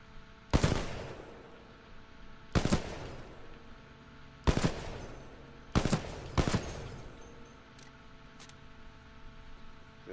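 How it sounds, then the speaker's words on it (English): Assault rifle fired in full auto in the shooter game Titanfall 2: several sharp, loud bursts of gunfire separated by brief pauses, each crack followed by a short ringing tail over a faint steady hiss. "The assault rifle. Full auto."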